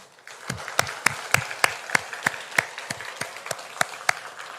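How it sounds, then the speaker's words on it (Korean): Congregation in a church worship service claps to welcome a visiting pastor, a sparse applause of about a dozen distinct, fairly loud claps in a steady uneven rhythm with no voices. "우리 박수로 환영하겠습니다."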